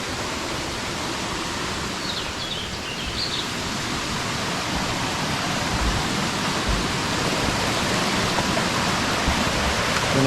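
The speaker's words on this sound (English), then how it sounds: "Bit of the leak is going down and making a waterfall." Water from a leak falls in a steady, broad rush, pouring continuously like a small waterfall close by, with no voices.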